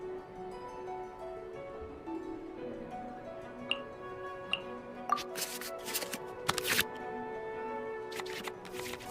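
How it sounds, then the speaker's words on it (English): Quiet digital card game in Genshin Impact, with soft ambient music underneath and a cluster of crisp swishing, clicking card effects as cards are shuffled back into the draw pile. "select any number of cards in our hand to shuffle back into the draw pile, and then draw the same number of new"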